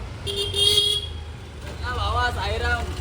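A car pulls up at the roadside during a Sai pilgrimage walk from Ulhasnagar, with a couple of short horn toots and engine rumble close by while people talk over it.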